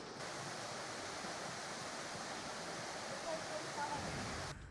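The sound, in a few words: water overflowing Palnekond dam after heavy rain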